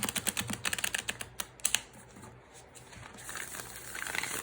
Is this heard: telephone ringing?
no